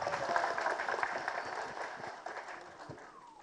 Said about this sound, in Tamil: முதல்ல அவருக்கு ஒரு ஓ போட்டு கைத்தட்டு போடுங்க.